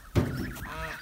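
Ducks and drakes on a small home farm give a loud, close burst of quacking calls, followed by softer, ongoing calls.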